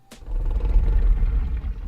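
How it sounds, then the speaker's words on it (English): A ferocious bear growls in the Blue Archive video game, a deep rumbling roar that swells right after a short sharp onset and holds loud and low for nearly two seconds, with no talk. "The rumble of a ferocious beast growling."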